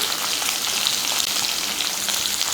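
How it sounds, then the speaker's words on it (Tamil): Sliced onion sautés in hot oil with cumin seeds and curry leaves, giving a loud, close, continuous bright sizzle with faint scraping, and no voices. "வெங்காயத்தை போட்டு லைட்டாக வதக்கிடலாம்."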